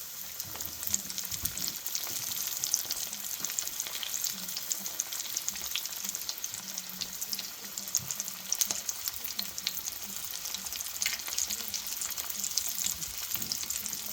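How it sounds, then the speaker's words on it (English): Cauliflower florets frying in hot oil, a steady close crackling sizzle with fine popping throughout, alone and even in level. "here they go into the oil. And these are only going to take a couple of minutes."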